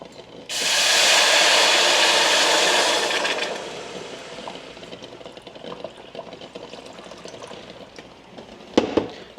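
Water pours into a hot pot for spicy ramen soup, a loud sizzling hiss bursting in at once and slowly fading into a softer bubbling simmer, with a couple of small clinks near the end.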